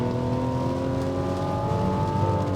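A 2024 Mazda CX-90 Turbo S with an inline six-cylinder engine accelerates hard from a standstill, heard from inside the cabin as a strong, steady rising drone that holds through the whole stretch, with no talk.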